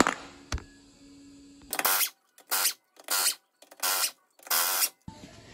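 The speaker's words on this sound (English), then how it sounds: "I am going to be using a 19mm socket, and it is not the chrome socket with the impact driver right here." A pneumatic impact driver with a 19mm non-chrome socket takes off car lug nuts during a brake job. Five loud, sharp rattling bursts come in a steady rhythm, each about half a second long, with silence between them.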